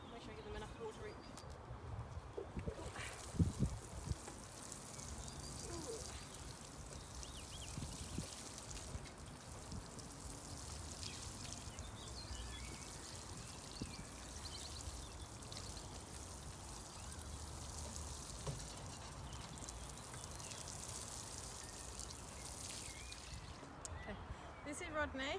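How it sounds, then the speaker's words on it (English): Water pours and trickles steadily onto plants on an allotment plot, a continuous outdoor splashing wash with faint birdsong in the background. "Make sure I give them enough water each."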